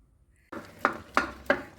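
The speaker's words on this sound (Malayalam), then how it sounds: "പാത്രം ഞാൻ വേറൊരു പാത്രത്തിലേക്ക് മാറ്റുവാണ്" A scraping clatter of cookware followed by three evenly spaced metallic clanks as boiled papaya for halwa is shifted between pots, close by.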